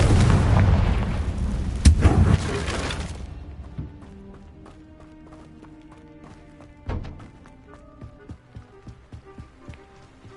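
A Confringo blasting spell detonates in Hogwarts Legacy: a loud, booming explosion with a sharp crack, rumbling and fading over a few seconds, followed by a quieter ambient game score and another smaller impact.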